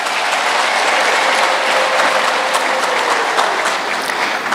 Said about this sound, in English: May you please clap hands for His Excellency